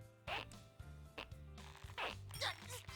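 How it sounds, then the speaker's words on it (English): Zipper on a character's suit pulled open in a video game, several quick rasping zips in short bursts over a low game background hum. "Are you hot, Teddy? I'll open up your zipper for you."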